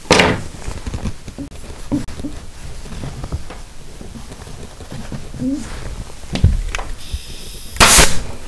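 Staple gun driving 3/8 inch staples into upholstery fabric, several sharp close snaps spaced irregularly, the loudest near the end, over background room noise.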